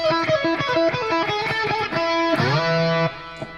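Distorted electric guitar riff played at full speed, a loud run of picked notes and double stops ending in a sustained slid chord, alone with no talk.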